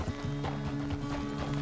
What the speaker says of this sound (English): The horse can feel your fear.